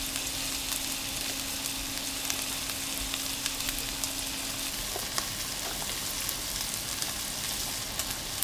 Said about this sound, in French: Alors là, on fait bien revenir nos carcasses.